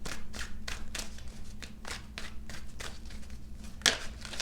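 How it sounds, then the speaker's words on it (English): Tarot cards shuffled by hand in a steady series of quick riffling bursts, about eight close, crisp flutters with a sharper snap near the end, with no talking. "Let me just give these a few shuffles here."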